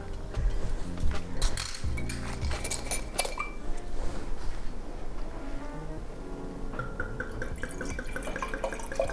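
Wine glugs and trickles into a glass with a few light clinks, close and fairly quiet, with no talking.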